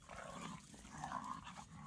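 Dogs growling as they play outdoors in the morning at El Potrero Chico, Mexico, a low continuous rumbling growl with a few rougher bursts, faint and somewhat distant, with no talking.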